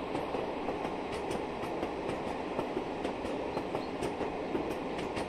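A train rolls over rails in Train Simulator Classic on the Wherry Lines route between Norwich, Great Yarmouth and Lowestoft, a steady loud rumble broken by regular rhythmic clicks from the track joints, with no talking.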